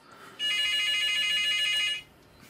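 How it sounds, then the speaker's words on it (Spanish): A room telephone rings in one continuous electronic trill lasting about a second and a half, clear and fairly loud against a quiet background. "Ignora el teléfono."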